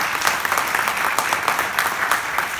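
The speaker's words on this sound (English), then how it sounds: "Give a round of applause to Pastor." An audience at a church press conference gives a steady round of applause, dense clapping throughout with no talk over it.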